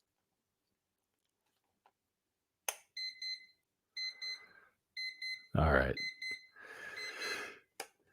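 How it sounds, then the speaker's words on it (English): A Peakeep quartz alarm clock sounds its alarm in short repeated bursts of bright electronic beeping, heard close up. Someone speaks briefly, and the clock is shuffled and handled with loud rustles between the beeps. "I'm going to move that around so you can hear what the sound is when it goes off"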